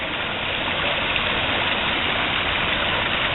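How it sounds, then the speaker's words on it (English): A river running fast and high in a June flood below a bridge, a loud, steady, unbroken rush of water that fills the whole stretch with no voices. "the river is just flowing like crazy."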